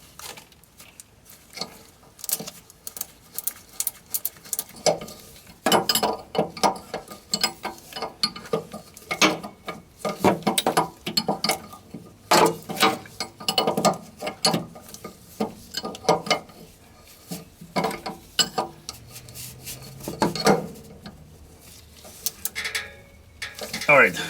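A wrench tightens an air supply line fitting on a school bus air suspension leveling valve, giving intermittent close metallic ratcheting clicks and scraping in short bursts with pauses between them.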